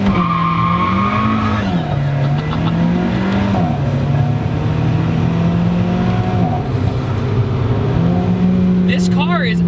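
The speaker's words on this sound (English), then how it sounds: "You hear the gearbox working, you hear the motor working, you hear the turbo spooling up, everything." Alfa Romeo 4C on the move, its engine droning loud and steady inside the cabin with gearbox whine and rising turbo spool, pitch stepping up and down as someone talks over it.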